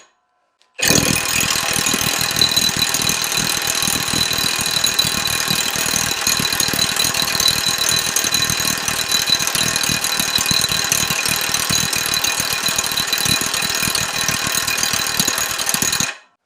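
A Milwaukee 2767 impact wrench hammers continuously on a stubborn bolt, a loud, dense rattling clatter that starts abruptly and runs without pause for about fifteen seconds before cutting off.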